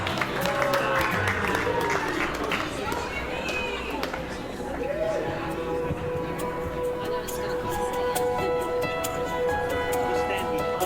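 Wedding guests applaud the couple, Shawn and Madison, with scattered clapping and chatter at moderate distance, fading as a tune with steady tones begins underneath.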